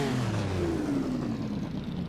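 A 1948 racing car engine in Assetto Corsa roars at steady high revs, loud and continuous with a slowly sliding pitch, alone without talk.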